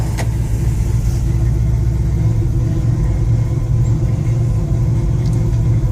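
A 1971 Ford F100 pickup, 44 years old, idles steadily just after a cold start, with a continuous low, loud engine rumble and no voices.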